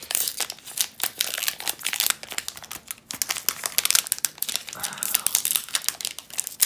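Plastic foil wrapper of a Dominaria Remastered booster pack crinkling and tearing, with continuous close crackling and rustling.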